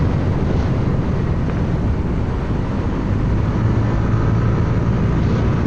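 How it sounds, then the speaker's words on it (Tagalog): Strong wind at Leofoo Village theme park in Hsinchu, Taiwan, buffets the microphone in a constant low rumble with no break, loud and rough throughout. "Medyo lumakas yung hangin."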